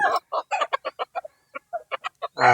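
Young gamecock stag crowing up close, a series of short rough clucking bursts followed by a loud broken crow at the end, with no other sound around it.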